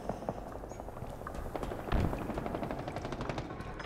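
Automatic gunfire in a Halo Infinite multiplayer match comes as rapid rattling bursts with one heavier thump near the middle, moderately distant and steady across the whole stretch.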